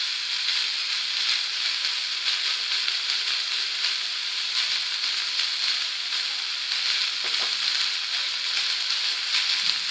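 Chopped onion sizzling in hot oil over medium heat, a dense steady hiss that stays loud and even throughout, with no voices.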